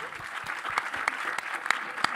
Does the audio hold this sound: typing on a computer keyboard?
no